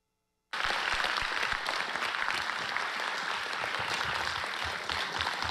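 University of Alberta students applauding over an online connection, a dense, steady wash of clapping that starts abruptly after a brief silence and holds at an even level to the end.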